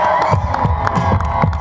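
A live crowd cheers, whoops and shouts for Danny MacAskill, the trials cyclist from the Isle of Skye, at an outdoor show on his Drop and Roll Tour; the loud, dense roar fills the whole moment with no break.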